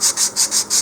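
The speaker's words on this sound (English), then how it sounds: "roll my sanding tee or sanding block as I do that" A sanding block rubs back and forth over a model rocket part in five quick, even strokes, each a close, bright rasping swish, with no talk.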